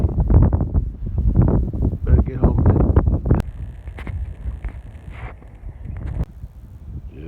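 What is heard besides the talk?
strong wind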